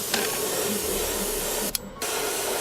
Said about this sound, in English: Let's pull it back so we get a larger spray pattern and make our work faster.